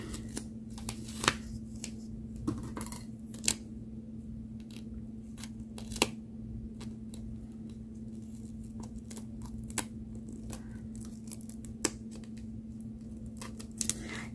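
Repeated snipping of dull scissors cutting a gray glass palette material, faint and steady with sharp clicks at irregular intervals over a low constant hum.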